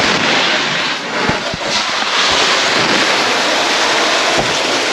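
Water sprays from a garden hose outdoors as a loud, constant, rushing hiss, broken by a few dull thumps.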